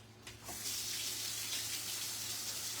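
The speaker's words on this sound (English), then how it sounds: "Now, let me rinse this brush out." A kitchen tap opens after a brief clink and runs steadily as a paint brush is rinsed under it, a close, even rush of water with no talking.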